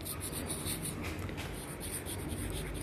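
Chalk or marker writing on a classroom board during a Hindi-language biology lesson on hormones, a steady scratchy stroking texture filling a short stretch with no talk.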